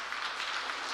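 Church congregation clapping together during a Sunday worship service, a steady dense wash of many hands filling the whole second without pause.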